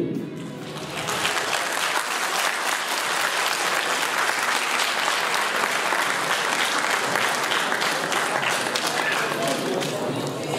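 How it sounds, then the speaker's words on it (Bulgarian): Wedding guests giving loud, sustained applause as the bride is handed over, with dense clapping that swells after a brief opening and continues throughout while voices come through faintly. "Благодаря ви за силните аплодисменти."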